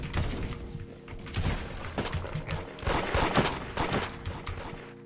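Shotgun blasts in the Roblox game Da Hood, several heavy booming shots spaced irregularly with thuds and impacts, loud and close with little talk.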